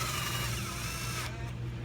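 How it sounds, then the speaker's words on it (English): A power tool whirs steadily at close range, running bolts in on a Chevrolet Silverado, GMC Sierra, Tahoe or Yukon; a continuous mechanical drone that cuts off near the end, leaving a quieter hum. "Use my power tool here. Now I'm just going to run them up."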